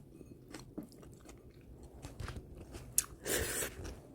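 Close, crunchy chewing and slurping of ramen noodles, with soft mouth sounds and a louder burst of slurping near the end, no speech.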